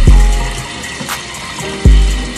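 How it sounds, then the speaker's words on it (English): Tap water splashing onto a face at a sink during a skincare routine, loud and close, with a steady rush broken by a few abrupt wet thumps. "put some water on my face"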